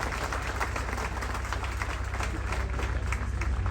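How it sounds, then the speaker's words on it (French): Audience applause for graduates of the 32nd promotion of the Haitian National Police academy, a steady, moderately distant patter of many hands clapping with faint crowd murmur, unbroken throughout. "je vous invite, mesdames, messieurs, encore une fois, à applaudir les lauréats de la 32e promotion"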